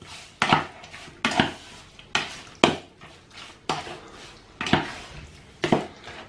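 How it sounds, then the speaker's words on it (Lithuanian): A salted food mixture for Georgian shkmeruli is stirred well in a bowl, heard as a series of sharp, close clinks and scrapes spaced roughly a second apart, with quiet gaps between. "Maišom gerai."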